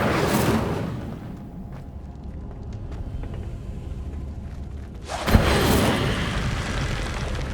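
Incendio fire spell cast in the Hogwarts Legacy video game, a sudden fiery whoosh and boom midway through over a low game rumble, with a rushing flare at the start as well.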